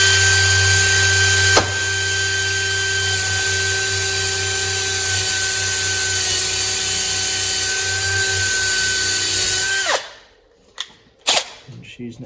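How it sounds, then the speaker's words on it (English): A step drill bores a hole in the roof of a Volkswagen Amarok for roof bars; a loud steady high whine runs for about ten seconds, then cuts off, leaving a few short clatters. "Let's just go use a step drill here and start in the middle"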